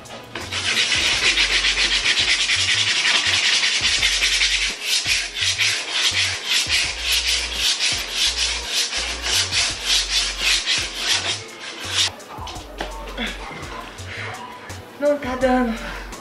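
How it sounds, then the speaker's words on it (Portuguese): Wood being sanded by hand during a low-cost kitchen renovation: loud, steady rasping strokes in a fast back-and-forth rhythm that turn more irregular near the end, with a few knocks and shuffles. "Ainda não terminei de lixar tudo"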